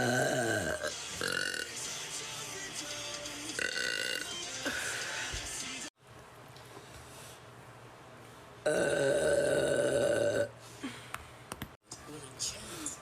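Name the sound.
burp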